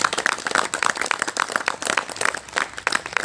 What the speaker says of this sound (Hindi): भाई के लिए एक बार फिर से तालियां।